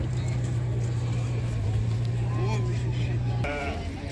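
Sheep at a livestock market give a couple of short bleats over a constant low rumble of market background noise.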